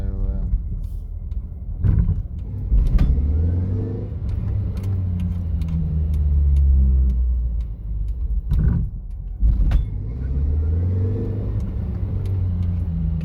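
A car engine rumbles and revs up, pulling away and accelerating in surges, with voices talking over the motor noise.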